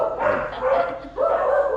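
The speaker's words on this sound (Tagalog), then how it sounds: "Daming aso dito." A group of dogs barks in overlapping bursts, loud and nearby, the yelps rising and falling in quick succession.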